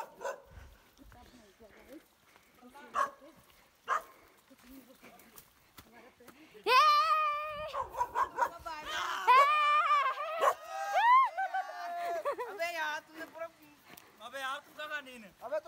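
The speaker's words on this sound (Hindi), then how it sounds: "हमारा कुत्ता भूख लग रही है।" A hungry dog barks, howls and whimpers outdoors during a picnic, scattered short sounds at first, then a louder run of whining and yelping cries in the middle, with people talking around it.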